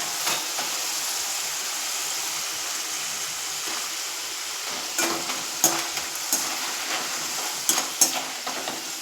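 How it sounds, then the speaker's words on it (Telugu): Homemade potato finger chips fry in hot oil with a steady close sizzle, broken by sharper crackles and the occasional stir or clink toward the end. "చూడండి ఇలా వేగాలండి."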